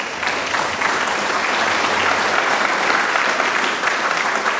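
Audience applause at an orchestra winter concert fills the clip, a dense, loud, continuous clapping from a large crowd with no pause.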